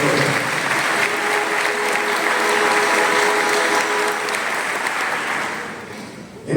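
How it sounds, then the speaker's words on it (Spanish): Loud, sustained applause from a church congregation at a Christmas-season aguinaldo Mass, steady clapping filling the space for several seconds before tapering off at the end. "Por eso regalemos un gran aplauso"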